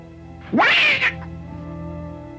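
A cat in the film The Crawling Hand gives a single loud, rising meow with a short trailing note, over a low, steady background hum.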